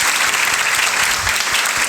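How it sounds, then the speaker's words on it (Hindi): Loud, dense applause from an audience honouring teachers at a BSF success-story event, steady clapping filling the whole stretch with no voices on top. "तो उन अध्यापकों के लिए भी जोरदार तालियां"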